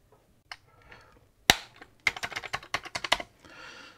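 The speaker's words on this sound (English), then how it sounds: "They do make kind of a snappy sound when you put them on there." Keycaps are pressed onto a Commodore 64 keyboard during a refurbishment, making a few isolated snaps followed by a rapid run of sharp, close plastic clicks and a brief rattling scrape at the end.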